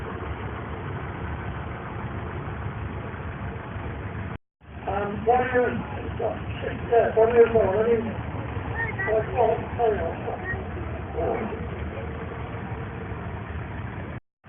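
A late-1949 single-cylinder diesel tractor with a 3-speed gearbox, rated at 79 horsepower, idles steadily at a vintage farming show, its low rumble running continuously while someone talks over it throughout.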